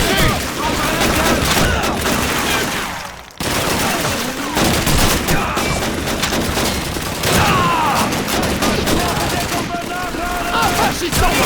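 Chaotic Call of Duty 2 street battle with rapid rifle and machine-gun fire crackling nonstop, close and loud, with a brief lull partway through and voices shouting under the shots.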